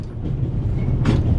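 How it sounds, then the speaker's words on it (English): Steady low rumble of a runaway train on rails through the Alps in the video game Raven Remastered, continuous and fairly loud with a brief hiss burst near the end. "on an out-of-control train in the Alps"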